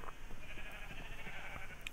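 A sheep in the video game Minecraft gives a short, close, blocky synthesized bleat, alone with no talk.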